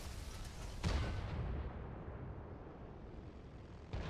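In a tank battle video game, a tank gun fires a shell with a deep boom followed by a rumbling decay, and a second heavy report comes near the end.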